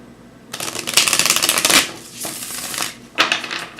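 Tarot cards are shuffled in several quick riffling bursts, close and crisp, with short pauses between rounds.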